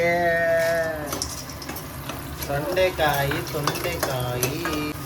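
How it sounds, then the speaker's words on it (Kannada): Turkey berries (sundakai) frying in palm oil in a pan, a close, loud sizzle with stirring scrapes, the frying continuing throughout. "ಇದು ಸೊಂಡೆಕಾಯಿ ಹಾಕೊಂಡು ಸ್ವಲ್ಪ ಬಾಡಿಸ್ಕೋಬೇಕು ಚೆನ್ನಾಗಿ"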